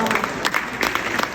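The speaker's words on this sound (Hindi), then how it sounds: "थोड़ा सा तालियों का घनत्व बढ़ाना" Audience applauds after a satire reading, a short burst of steady clapping from a gathered crowd.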